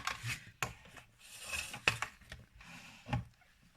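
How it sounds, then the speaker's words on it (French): A paper trimmer slices off excess paper during a craft project: close sliding and scraping strokes with a few sharp clicks and rustles, irregular and fairly quiet. "Donc moi je prends mon massicot"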